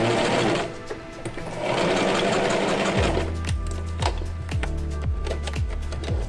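A sewing machine stitches over the joined ends of elastic, starting with a whirring run and then settling into a fast, regular mechanical clatter close by, with no voices.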